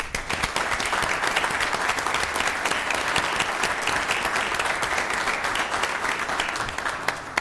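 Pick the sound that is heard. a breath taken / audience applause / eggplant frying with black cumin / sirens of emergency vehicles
audience applause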